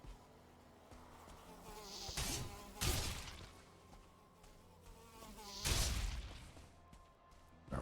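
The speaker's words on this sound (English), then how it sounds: "Mosquito." A buzzing mosquito in the video game Valheim (HellHeim modpack) whines steadily at low level, with two louder swells of thumping or crashing in between, and no voices heard.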